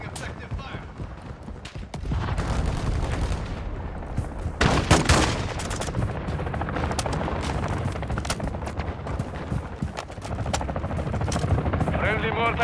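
Video game gunfire from Call of Duty: Modern Warfare II crackles in dense, overlapping bursts, loud and close, with a heavier blast midway and continuous battle noise throughout.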